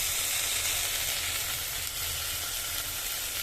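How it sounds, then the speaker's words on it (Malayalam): Chopped onions sizzle in coconut oil inside a pressure cooker while a Kerala-style chicken dish is prepared, a steady close hissing fry with no voices. "വലിയ ഉള്ളി അരിഞ്ഞത് ഇട്ട് കൊടുക്കുകയാണ് കേട്ടോ."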